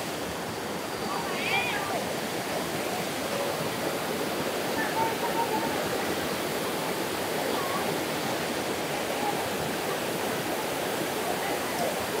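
A mountain stream rushes near Thác Mây waterfall in Thanh Hoá, a steady broadband roar of flowing water with faint voices and bird-like chirps briefly audible over it.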